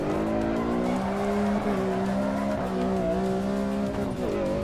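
Racing car tyres squealing and sliding in the Assetto Corsa Evo sim, a loud sustained screech with wavering pitch over a continuous engine drone, no voices.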